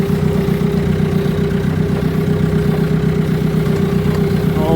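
A tired white farm tractor of over 100 horsepower idles at a haying job with round bales, giving a loud, steady, close diesel chug with an even low throb throughout.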